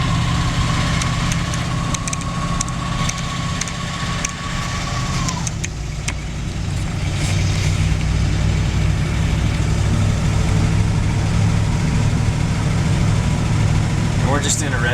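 A 1972 Dodge D200 truck's engine runs through a cold start at 40 degrees and 6,035 ft elevation, a steady low drone with a whining tone that drops away partway through, close and continuous.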